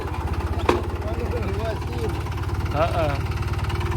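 A tractor engine idles close by with a steady low throbbing pulse throughout, while someone speaks briefly over it.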